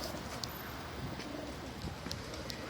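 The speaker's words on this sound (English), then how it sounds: "Bird fight." Pigeons or doves scuffling in a fight, with soft cooing and a few brief bright chirps over a steady broadband outdoor hiss, fairly faint and continuous.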